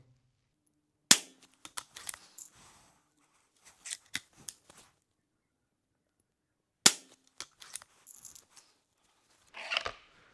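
A Hatsan Airtac air rifle fires two sharp, close cracks several seconds apart against near silence, each followed by small mechanical clicks and rattles from handling and reloading.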